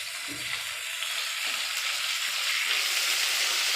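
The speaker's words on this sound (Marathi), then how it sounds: "मिरच्या कट करून झालेल्या आहेत ह्या पण त्याच्यामध्ये टाकून घ्या" Cut green chillies fry in hot oil in a pan for masale bhat, making a loud, steady, close sizzle with faint stirring and no voices.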